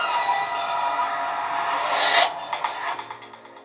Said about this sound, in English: don't let this annoying startup sound fool you